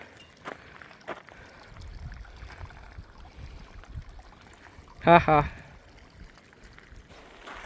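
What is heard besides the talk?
flowing glacier stream water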